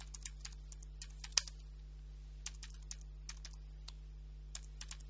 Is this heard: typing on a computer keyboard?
yes